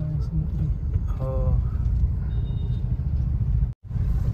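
An Eicher truck passes on the Mumbai-Goa highway near a bridge, a loud continuous low engine rumble with traffic around it, a brief beep, and someone talking over the noise.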